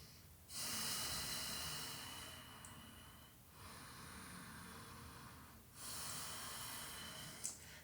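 Slow, quiet yoga breathing held through a pose, with long soft breaths rising and falling in a few audible cycles and a faint snort-like exhale near the end.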